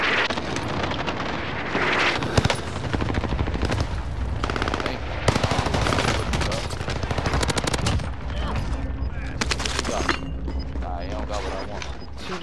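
Sustained, dense automatic gunfire in the Call of Duty video game, loud rapid bursts and volleys filling the whole stretch, with a person talking intermittently underneath.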